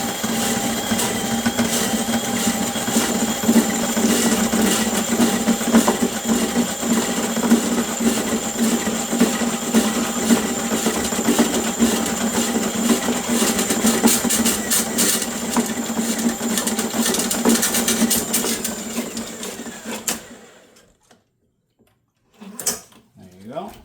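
A Milwaukee M12 drain snake spins in a clogged apartment kitchen sink drain, a continuous loud whir with ratcheting texture running about twenty seconds before stopping, followed by a few faint knocks.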